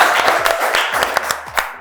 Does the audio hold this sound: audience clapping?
yes